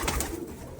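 Racing pigeons coo softly in a loft in a short burst, close by, with a low murmuring rumble and no talking.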